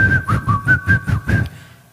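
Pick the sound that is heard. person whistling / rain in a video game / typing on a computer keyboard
person whistling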